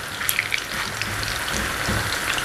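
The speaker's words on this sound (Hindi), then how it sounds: "ये देखें चिप्स हमारे जो हैं वो फ्राई हो रहे हैं।" Potato chips fry in hot oil in a home kitchen, a dense, steady crackling sizzle with scattered sharp pops, close and continuous with no talking.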